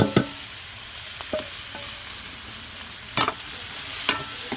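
Sliced onions frying in a pan of oil left from frying fish, a steady broadband sizzle with a few sharp clinks and scrapes of stirring, heard close and alone.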